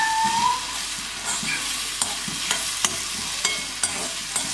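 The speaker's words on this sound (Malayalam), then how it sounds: "ഞാനിവിടെ വെളിച്ചെണ്ണ തന്നെയാണ് യൂസ് ചെയ്തത്. അപ്പം ഉള്ളി ആയിക്കൊണ്ടിരിക്കുകയാണ്." Onions sautéing in coconut oil give a steady broadband sizzle, with a series of sharp clicks and scrapes as they are stirred in the pan, with no talking.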